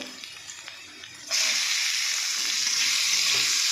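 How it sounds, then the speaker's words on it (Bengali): Potatoes and onions fry in a pan with a steady, loud sizzle. The hiss jumps sharply in intensity partway through as more goes into the hot oil, then holds strong to the end. "আলুগুলো একটু ভেজে নিয়েছি, আর একটু পেঁয়াজ দিয়ে দেবো।"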